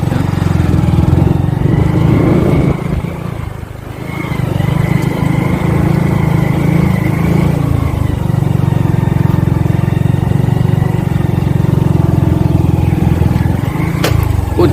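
A motorcycle engine drones steadily on a mountain road in the Uttarakhand hills, a continuous loud hum that dips briefly and then holds close by.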